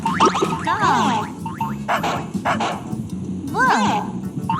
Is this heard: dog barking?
yes